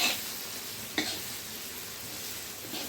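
Chicken sizzles in oil in a pan as coriander powder is stirred in, with a steady frying hiss and one sharp utensil scrape partway through.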